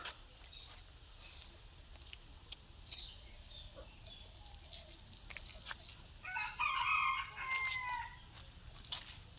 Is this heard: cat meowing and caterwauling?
no